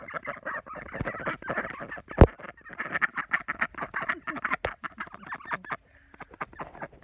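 Backyard chickens cluck and chatter continuously at close range, with dense overlapping calls, a few sharper squawks, and a brief lull near the end.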